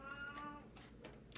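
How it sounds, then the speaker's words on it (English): A house cat meows a few times, faint and close, in a quiet room with a low hum underneath. "That's my cat, she just ate."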